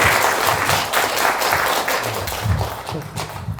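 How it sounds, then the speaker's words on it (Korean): A seated audience at a lecture applauds. The broad, continuous clapping is loud and close, with faint low voices murmuring beneath it. "박수 주세요."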